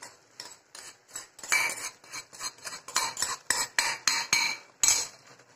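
Roasted health mix powder is stirred into a pan with a metal spoon, producing a rapid, steady series of close scraping clinks and knocks against the pan, repeating about twice a second without any talk.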